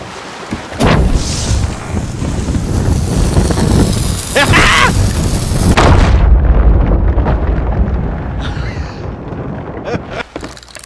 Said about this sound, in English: We're going to frickin' bomb them.